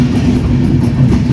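Ekota Express passenger train rolls into Mouchak station in Bangladesh, giving a loud, steady low rumble with faint rail noise heard close by.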